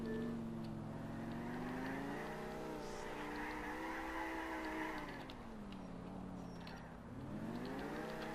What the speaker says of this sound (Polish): Tradycyjnie ukradliśmy samochód